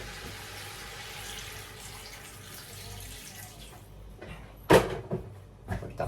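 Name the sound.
water poured into pot for Filipino chicken soup tinola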